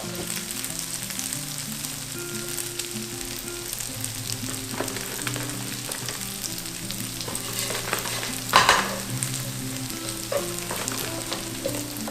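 Vegan minced meat sizzling in a pan with salt, sugar and Korean chili powder, a constant loud frying hiss with occasional stirring scrapes over soft background music.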